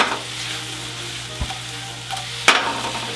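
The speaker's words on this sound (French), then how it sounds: "Échalote, marise, on les fait suer. Tourne, retourne." Shallots sweating in a pan for a duck breast sauce give a steady close sizzle, broken by a few scraping stirs and one sharp utensil knock near the end.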